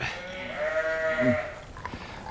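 A ewe during lambing gives one long, wavering bleat up close, followed by a low grunt, over faint background noise.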